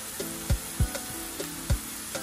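Bolognese sauce stirred in a pot, sizzling steadily while a spoon scrapes the bottom in several distinct strokes, close and fairly loud, with no talking.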